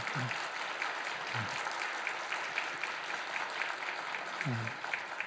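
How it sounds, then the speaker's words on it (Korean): Church congregation applauding steadily throughout, with a few low thumps and bumps near the start and end, moderately loud and continuous with no talk. "원로 목사님과 원로 사모님께 한 번 더 격려의 박수 해주시면 감사하겠습니다."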